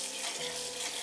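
Rice rinsed by hand in a bowl of water to wash off starch, a close wet swishing and sloshing that carries on steadily for the whole moment, with no voices over it.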